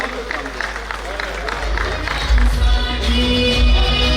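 Crowd applause at a speech event swelling from scattered claps into fuller clapping, with a murmur of voices underneath.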